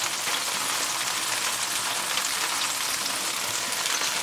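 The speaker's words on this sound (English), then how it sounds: "They'll bounce the drippings off the cooker, you can see this." Ribs cooking hot and fast in a reverse flow smoker, their drippings sizzling off the cooker: a steady, close hiss of crackling fat, even and continuous like light rain, with no voices.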